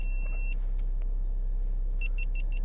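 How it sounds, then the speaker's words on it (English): An overheating video camera gives a short run of four quick, evenly spaced electronic beeps as it shuts itself off, heard over a steady low hum inside a 2013 Volkswagen Golf, following a brief earlier tone. "that's one of my cameras switching off"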